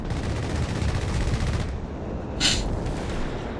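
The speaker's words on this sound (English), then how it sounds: "Troops being hit there by the strafing run." Strafing-run gunfire from the strategy game Company of Heroes 3: a dense, continuous rattle of rapid shots and battle noise, with a sharper burst near the end.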